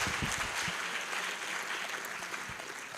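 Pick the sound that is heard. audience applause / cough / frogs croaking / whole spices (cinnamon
audience applause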